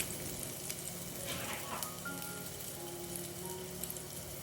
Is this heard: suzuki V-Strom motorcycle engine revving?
no